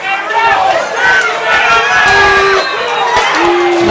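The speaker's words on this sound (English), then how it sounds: "And now this crowd is arguing about it too." A high school football crowd in Georgia shouts and chatters in a dense, continuous roar of overlapping voices disputing a missed pass interference call.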